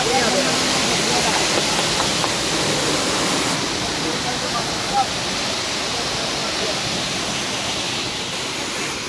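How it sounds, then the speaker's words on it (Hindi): Bamni Falls at Ajodhya Hill in Purulia roars steadily as a dense, unbroken wash of rushing water, loud and close, with no clear voices on top. "ये देखिए पानी और तेजी से बढ़ गया"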